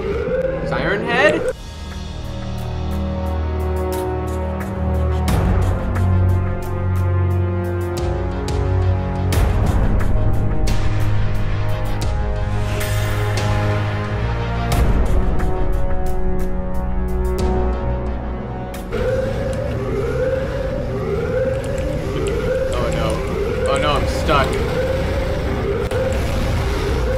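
A wailing Siren Head siren in the Roblox Backrooms game rises and falls over a busy game soundtrack with repeated tones and clicks, and a player talks over it.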